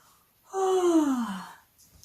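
A voice imitates Baby Bear yawning, giving one long, drawn-out, falling yawn at moderate volume against quiet surroundings.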